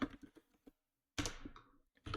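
Commands are typed on a computer keyboard in quick close clusters of clicking keystrokes, separated by a silent pause before a dense burst of typing resumes.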